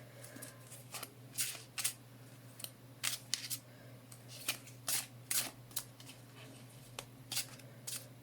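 Tarot cards being shuffled for a love reading: repeated crisp riffles and snapping flutters in quick bursts, close up, with no talking.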